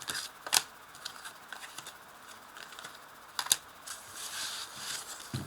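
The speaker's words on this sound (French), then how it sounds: "Alors là, je place les cartes." Tarot cards being laid out and shuffled on a table, a few crisp card snaps and slides among soft rustling, close and fairly quiet, with no talking.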